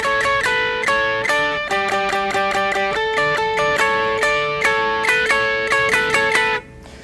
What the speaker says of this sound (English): I use the screamer with the drive very low. I used it kind of almost as a boost